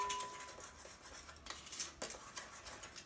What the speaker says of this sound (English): So we're just going to whisk this here up, give this breading